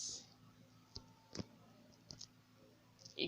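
Mouse clicks while selecting layers in a digital illustration app: four or five short, sharp, faint clicks, irregularly spaced and close by, with no talk.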